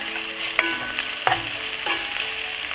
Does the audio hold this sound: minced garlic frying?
yes